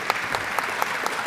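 An audience at a naturalization ceremony claps steadily in a short, dense burst of applause, close and loud, with no voices over it.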